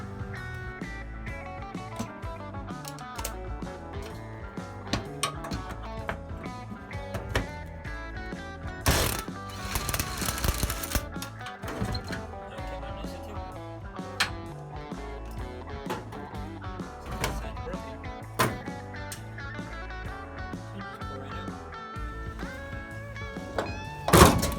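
Mechanical clunks, rattles and sharp bursts of a tool working on rusted bolts on a 1952 IH truck, with intermittent thuds and metallic clatter in an enclosed space, moderately quiet.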